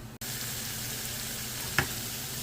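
A king fish curry stew cooking down in a pan, giving a steady close sizzle and frying hiss throughout, with one brief stir or scrape near the end.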